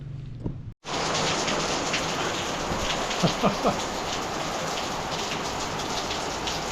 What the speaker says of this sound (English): storming all night, thunder, lightning